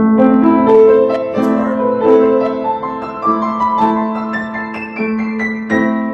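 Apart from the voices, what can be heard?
slow piano passage being played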